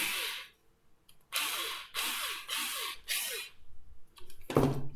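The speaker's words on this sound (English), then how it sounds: "So we'll take our cordless screwdriver now and put it in nice and gently" Cordless screwdriver driving a screw into the centre of a wooden handle for a mini storage box, several short whirring bursts with brief pauses between them, close and moderately loud, ending in a sharp clunk.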